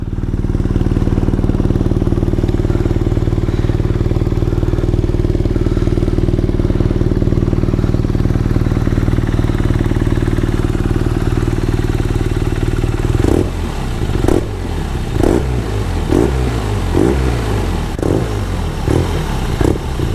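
Close and loud, a 2020 BMW R nineT Scrambler with a 2-into-2 exhaust idles with a steady throb, then about two-thirds through gets blipped through a string of short, sharp revs that rise and fall in quick succession.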